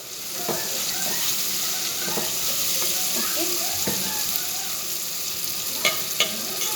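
Masala sizzles in a pan with tomato and cumin for aloo pulao, a constant hissing fry broken by occasional spoon clinks and stirring knocks near the end.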